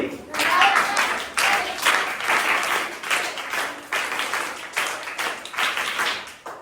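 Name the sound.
scout clap, rhythmic group clapping by students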